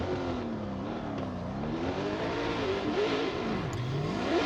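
A custom-built drift car accelerates hard out of the start gates, its engine note rising and falling steadily as it revs through the launch, loud and continuous with no talk over it.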